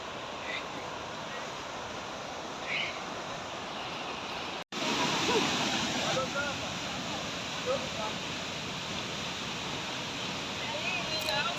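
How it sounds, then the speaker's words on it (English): Kang'ang'a Falls, the fourth waterfall on a Kirinyaga hike, gives a steady broadband rush of falling water, continuous and moderately near, with a brief dropout midway and faint voices at times. "Finally, we got the view of the fourth waterfall, Kang'ang'a Falls"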